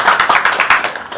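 A brief burst of audience applause at a youth climate activists' meeting, rapid overlapping hand claps close and loud for about a second.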